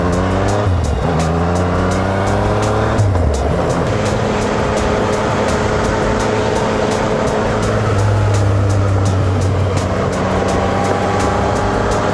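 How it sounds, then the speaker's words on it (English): A loud engine roars steadily, pitch rising and falling as a car drives and passes close by on a dirt road, with no talking. "there's another car coming"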